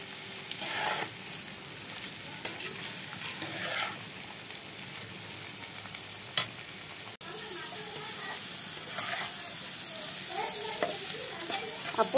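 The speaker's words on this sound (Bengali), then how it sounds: "ডিম দিয়ে ভাজি করছি" Vegetable bhaji with egg frying in a pan gives a faint, continuous sizzle broken by occasional stirring scrapes and clatters. A voice murmurs quietly at times.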